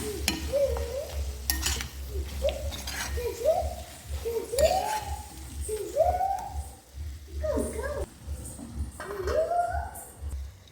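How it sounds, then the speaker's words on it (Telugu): Minced mutton kheema curry simmers and is stirred in a pan, with a steady scraping and bubbling bed of sound running throughout while a voice talks over it. "వీటన్నిటిని కలుపుకొని మరొక 1 నిమిషం పాటు అయితే ఈ కూరను మనం ఉడికించుకుందాము."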